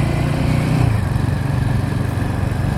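A Royal Enfield Himalayan 450 engine runs steadily up close with a low, continuous throbbing drone. The level stays even throughout, with no clear revving.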